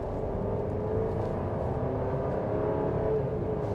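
A 2025 GMC Acadia Denali AWD accelerates under throttle, its engine giving a steady, moderate drone heard from inside the cabin, with no talk over it.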